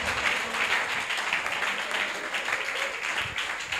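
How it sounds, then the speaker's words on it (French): A church congregation applauds the Lord, producing dense, continuous clapping from many people that stays steady throughout. "Acclame bien le Seigneur"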